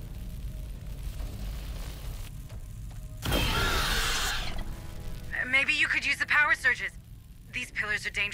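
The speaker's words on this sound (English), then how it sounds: "Sentry almost ready. Deploying sentry gun." A sentry gun deploys in the sci-fi video game Aliens: Dark Descent with a loud, hissing mechanical whoosh, followed by a voice speaking.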